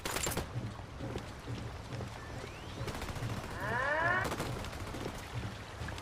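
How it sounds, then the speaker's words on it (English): Rapid bursts of gunfire from a squad in a military video game, dense crackling shots near the start and again around the four-second mark, with a rising whine and a continuous battle din in between. "Opening fire."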